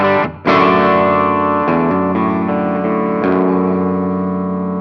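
An electric guitar plays through a Mooer Little Tank D15 modeling amp set to a clean Vox Match 30 tone, ringing sustained chords with fresh strums at intervals, full and bright, no talking over it.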